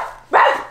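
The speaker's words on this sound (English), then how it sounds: "Dog! She wants in too." A dog gives a single loud bark up close, wanting to be let in, after a brief quiet moment in a household setting.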